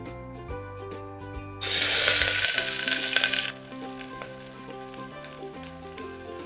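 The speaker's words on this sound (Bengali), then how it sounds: "নেক্সট আমরা এতে পেঁয়াজ কুচি দিয়ে দেবো" Chopped onion dropped into hot oil with whole cumin seeds, a loud burst of sizzling frying that swells suddenly, then settles into a softer steady crackle under background music.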